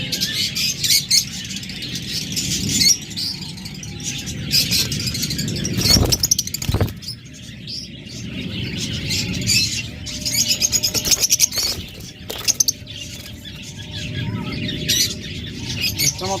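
A pair of olive lovebirds chirps and squawks in a steady, busy stream of close bird calls, with a few louder bursts partway through.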